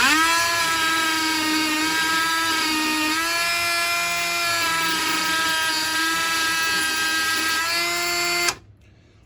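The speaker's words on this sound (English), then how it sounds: "I just use this Ryobi grinder here, and I just grind them." A Ryobi grinder grinds the weld marks off 18650 battery cells with a loud, steady, high-pitched whine that holds for about eight seconds and then cuts off abruptly.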